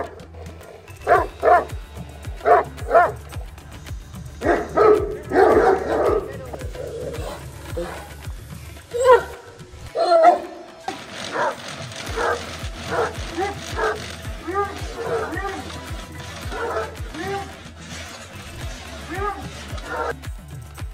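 Pakistani mastiffs (Bully Kutta) bark in repeated deep bursts, with several dogs yipping and whimpering at close range while people talk throughout.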